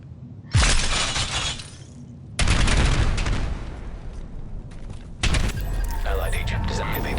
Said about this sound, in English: Now this is a explosive Shrapnel Trap build